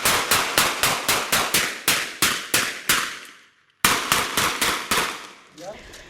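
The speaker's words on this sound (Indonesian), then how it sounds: "petugas terpaksa mengeluarkan tembakan peringatan untuk membubarkan kerumunan warga yang mendekat" Police fire warning shots to disperse an approaching crowd: a loud, rapid string of evenly spaced sharp bangs, a brief silence, then another burst of the same cracks.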